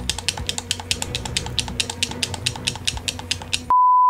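Rapid, steady clicking of a game controller's A button being tapped over and over while playing Red Dead Redemption 2, the taps close and evenly spaced, ending in a sustained electronic beep.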